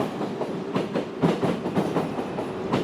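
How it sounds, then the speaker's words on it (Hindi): A train running along railway tracks at night through a forest, with a steady rolling rumble and rhythmic clickety-clack of wheels over rail joints, close and continuous with no voices. "उसकी ट्रेन जंगल के रास्ते से जा रही थी।"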